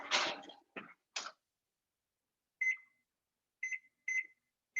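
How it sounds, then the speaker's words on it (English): Oven timer in a home kitchen sounding a few short electronic beeps spaced apart, fairly faint and close, after some brief shuffling noises. "I'm going to pop this in the oven now and set the timer."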